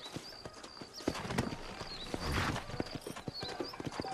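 Horse hooves clip-clop in a Western video game setting, a quick irregular run of sharp close hoofbeats with a brief whinny and faint ambient game sound underneath, no speech.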